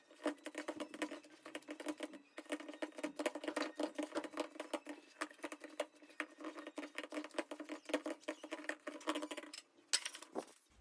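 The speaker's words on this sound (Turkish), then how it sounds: "Maydanoz doğrayacağım üzerine." Parsley being chopped with a knife on a board for Turkish lentil and meat köfte, a fast steady run of close, crisp taps repeating for about ten seconds with brief pauses.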